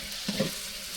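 Native duck meat frying in a pot on a village clay stove, a soft continuous sizzle with a faint stirring bump, brief and close, no talking.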